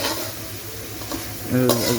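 Biryani spices with mace, nutmeg and dried plums sizzle in a hot pan, with stirring and a faint scrape of metal near the end.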